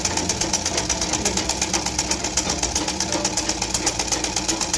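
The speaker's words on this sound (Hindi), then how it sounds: "इस तरीके से अपन हम सिलते हैं।" A sewing machine stitches a cross-cut blouse in a steady, fast run of even needle strokes, loud and close, with no talking over it.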